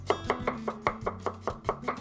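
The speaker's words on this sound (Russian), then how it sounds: "Для соуса средними кусочками режу чеснок" A knife chops garlic on a cutting board with quick, steady, sharp taps, about ten strikes in two seconds, close and clear.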